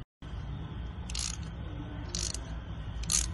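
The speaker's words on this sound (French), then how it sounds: "Je vais tenter d'enlever la bague avec mon arrache roulement." Bearing puller working a clutch ring out of a Nissan 300ZX gearbox, with three brief bright metallic squeaks or clicks spaced about a second apart over a steady low workshop rumble, close by and no talk.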